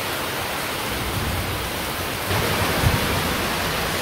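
Heavy rain pours steadily under a dark stormy sky, a dense hiss with low thunder rumbling faintly beneath and swelling slightly toward the end, no voices.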